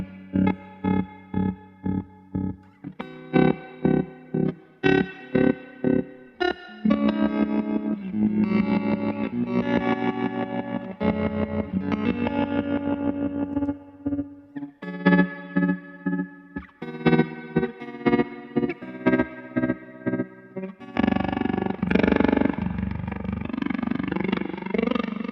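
Electric guitar runs through a Stone Deaf Tremotron analog effects pedal, its patches switched one after another: choppy stuttering chords give way to swelling, warbling, distorted tones and a noisy roar near the end, loud with no talking.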